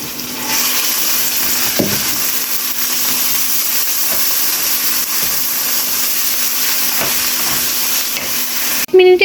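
Browned onions sizzle in hot oil as ginger paste and garlic paste go into the pan, a steady close hiss with a few soft stirring scrapes and a brief clatter at the very end.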